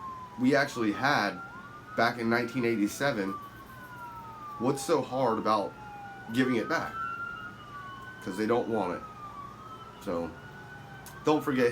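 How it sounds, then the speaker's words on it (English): Police sirens wail outside, rising and falling faintly in the background beneath a man's close conversational speech, which runs almost continuously throughout. "Sorry about the sirens."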